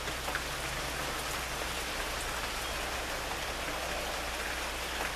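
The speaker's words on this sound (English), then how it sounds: "I just want to capture this rain here" Steady rain falls outdoors in California, a dense, even hiss of drops on surfaces that continues without pause and with no voices.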